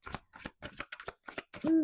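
Tarot cards are shuffled and drawn in a quick series of crisp riffling bursts, close and clear, ending as a voice begins to talk.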